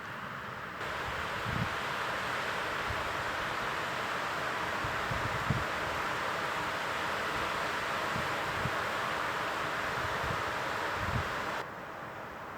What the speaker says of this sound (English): Just don't want this wind to blow it out.